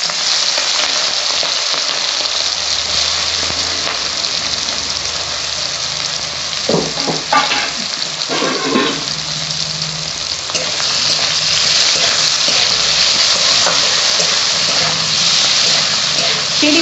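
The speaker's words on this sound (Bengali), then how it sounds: "তেলটা গরম হয়ে গেছে, মাছগুলো আমি এবার ভেজে নেব।" Prawns frying in hot oil in a home kitchen, a steady loud sizzle that runs throughout with a few sharper crackles and stirring clatters near the middle, no talking.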